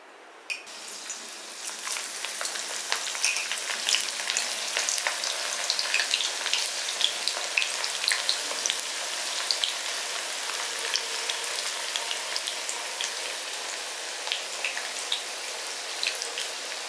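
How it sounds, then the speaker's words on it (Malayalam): Bitter gourd pieces deep frying in hot coconut oil for pavakka pachadi, an Onam sadhya dish: a steady, dense crackle and spatter of bubbling oil with sharp pops, close and continuous throughout. "അപ്പോൾ അതിലേക്ക് കുറേശ്ശെ ഇട്ട് നമുക്ക് വറുത്തെടുക്കാം."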